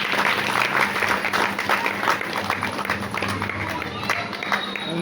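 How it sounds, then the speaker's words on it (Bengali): Applause from an audience at a women's committee event for an Annapurna puja, steady dense clapping throughout with talking mixed in. "একটু জোরে হাততালি।"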